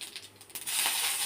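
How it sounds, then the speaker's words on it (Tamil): Mustard seeds and urad dal hit hot oil for a chutney tempering: a few faint clicks, then a sudden loud, steady crackling hiss swells up and holds, with no talking. "எண்ணெய் நல்லா சூடு ஏறட்டும். கடுகு கொஞ்சமாக சேர்த்துக்கலாம். உளுந்து 2,"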